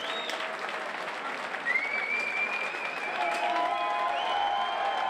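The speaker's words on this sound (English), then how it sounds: "please give both Morten Djursa and Peter Irving a round of applause for 3 exciting rounds of action" A crowd at a combat sports fight night applauds after a three-round bout goes to the judges' scorecards, a steady wash of clapping with whistles and cheers rising through the middle, fairly distant and even.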